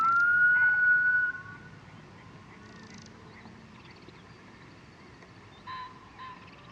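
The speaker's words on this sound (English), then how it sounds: "That's a curlew." A curlew gives a rising, whistling call that rings out briefly over faint outdoor ambience, followed by quieter distant calls.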